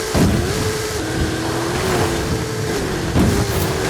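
A Ford F-450 pickup's engine drones loud and close in Forza Horizon 5, holding a steady throttle note with a short dip near one second and bursts of rougher noise at the start and near the end.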